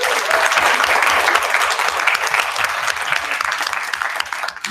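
A quiz-show audience gives steady, dense applause for a three-time geography bee winner, a full wash of claps that holds evenly and thins slightly toward the end.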